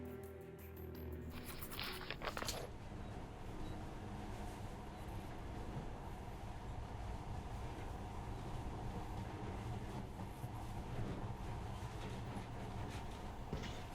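A monorail train in the video game Metro Last Light runs steadily with a constant rumbling drone, after a brief burst of noise at the start, loud and continuous with no talking.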